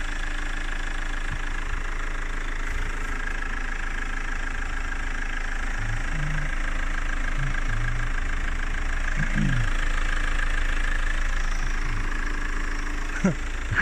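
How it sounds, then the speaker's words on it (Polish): An Opel Antara 4x4 diesel engine idling, a steady low rumble with a faint knocking texture, heard close and constant, with a few brief faint other noises over it. "Nic nie mówię, nie zakłócam dźwięku diesla."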